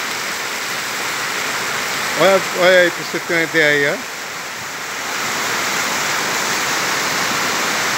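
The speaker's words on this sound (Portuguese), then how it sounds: "E a chuva começou a aumentar mais, pessoal." Heavy rain pours steadily onto the main avenue of Ribeira do Pombal, Bahia, a continuous broadband wash of falling and flowing water that holds level throughout, with someone speaking briefly over it early on.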